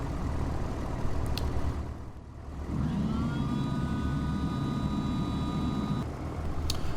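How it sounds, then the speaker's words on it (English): Flaps and landing gear moving on a Just Flight Duchess Model 76 twin-engine plane in the Prepar3D flight simulator: a rising electric motor whine runs for a few seconds over a steady engine drone, no speech. "I really enjoy the flap and gear noises of the aircraft"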